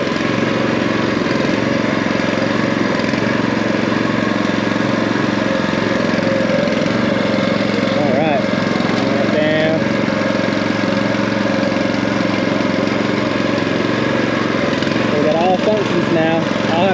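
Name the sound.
cheap firewood conveyor running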